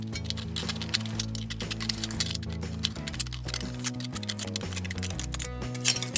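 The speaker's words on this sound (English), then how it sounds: "Now you can take your scissors and get right in there at the bottom." Scissors snip repeatedly through a thin aluminum can in quick, irregular clicks, heard over background music.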